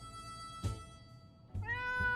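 An angry house cat in the game 60 Seconds! gives two short meows about a second apart, the second rising into a longer whining cry over a soft background tone.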